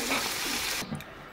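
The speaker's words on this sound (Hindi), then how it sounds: "चावल भीग गए हैं, इसका पानी मैंने निकाल लिया" Water pours off a batch of soaked rice for a home-cooked pea rice dish, a near, steady splashing rush that stops abruptly partway through and leaves only faint drips and room tone.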